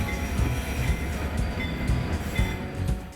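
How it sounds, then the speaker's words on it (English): A steam locomotive train runs on the railroad near Torrington, a continuous loud rumble of rolling wheels and rail noise, close by and steady. "The main reason we went up to Torrington with John and Barney and the steam locomotive"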